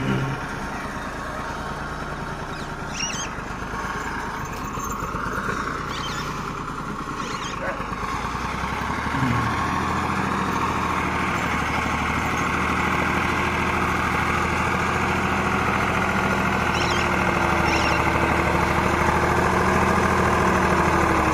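A Same Greaves 353 tractor engine labours steadily while pulling a three-bottom mouldboard plough, a continuous close, loud drone with a rougher, heavier tone in the latter half as the load builds, and voices talking over it.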